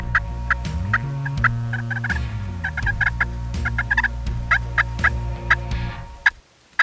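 Wild turkeys about sixty yards off work toward hunting decoys, gobbling and clucking repeatedly in a lively, overlapping chorus, with sharp calls punctuating a steady low murmur.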